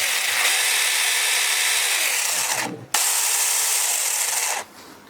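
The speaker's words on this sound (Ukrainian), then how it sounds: "Ось так працює наша пилка." Loud, continuous buzzing whine of a BOXER BX-3320 cordless pruning saw running, briefly cutting out midway, then resuming before stopping near the end.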